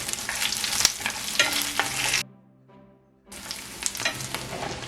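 Curry leaves and small dried red chillies sauté in hot oil in a pan, a loud steady sizzle with spoon stirring, broken by a brief quiet gap before the crackling frying resumes.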